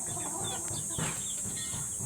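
Chickens on a backyard poultry farm cluck softly at close range, a few brief calls over steady noise with no voices.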